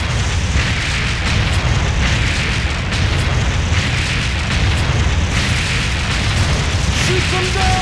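Dense, continuous booming cannon blasts and rumbling explosions in the arcade game Deadstorm Pirates Special Edition fill the whole stretch, loud and close, with a steady roar beneath and faint voices mixed in.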